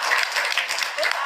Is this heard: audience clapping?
yes